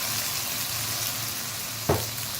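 Minced meat (keema) and watery chopped garlic frying in a pan, giving a steady close sizzle throughout with one brief stirring clatter near the end.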